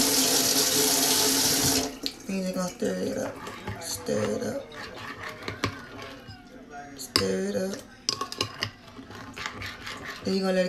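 A kitchen tap runs loudly and steadily for about two seconds as water pours out, then cuts off; afterwards a person talks with music playing and scattered clatter.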